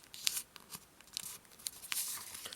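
A flap of origami paper being folded up along the midline while making a seashell, a few quiet, close crinkles and crisp paper creases in short separate bursts.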